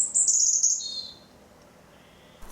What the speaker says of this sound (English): This great tit also has young to feed, but something is not right.